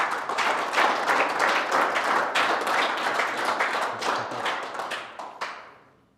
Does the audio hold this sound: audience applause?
yes